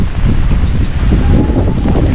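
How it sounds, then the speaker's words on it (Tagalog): Strong storm wind buffets the microphone in Taiwan, a loud roaring rumble with gusty surges and rain, continuous and close. "sobrang lakas ng hangin at ulan"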